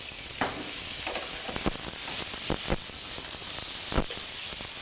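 Olive oil sizzles and hisses steadily in a pan while fusilli with prawns cooks, a continuous close frying sound with occasional stirring knocks and no talking.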